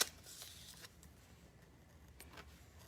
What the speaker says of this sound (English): So I'm cutting on the inside of the black line because I want that black line to show.